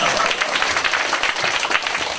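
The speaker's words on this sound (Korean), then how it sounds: "박수 한번 더 나와야 되는데." An audience at a cancer seminar breaks into applause, a sustained crowd clapping texture with slight surges, fairly loud and continuous with no voice over it.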